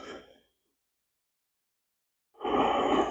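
During a seated chair yoga leg stretch, a person breathes out in a soft sighing exhale, falls silent for about two seconds, then takes a louder, close breath in.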